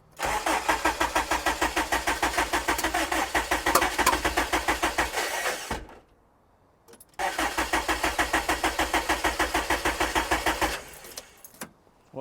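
A K-swapped Honda Civic engine cranks in a rapid, rhythmic chug for about six seconds, falls silent briefly, then cranks again for another four seconds before cutting out, close and loud.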